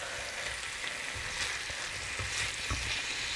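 Chicken sizzling on a hot tawa while being stirred and scraped, a steady loud hiss of frying with occasional clanks of the spatula against the pan.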